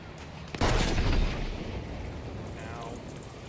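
A heavy boom from a video game tank firing, hitting suddenly and loud, then rolling into a long rumbling explosion that fades slowly across the rest of the clip.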